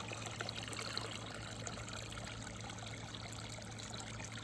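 Water trickling steadily into a container being filled to the top for a broiler chick brooder, a continuous soft splashing stream with a low hum underneath.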